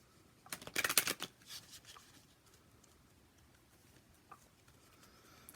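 Oracle cards are shuffled in a quick rustling burst that peaks in the first second and a half, then trails off into a few faint shuffles and near-quiet handling.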